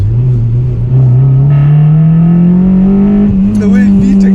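A 2006 Honda Civic EP3 Type-R, stage 2 tuned, revs hard from inside the cabin, its loud engine note climbing steadily as VTEC engages, with a brief shift-like dip near the end.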